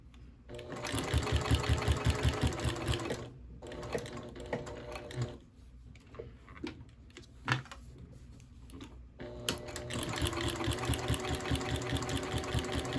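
Sewing machine stitching a small scrappy mug rug, loud close bursts of rapid needle chatter separated by a quieter stretch of slower stitches and clicks, then resuming in a steady run.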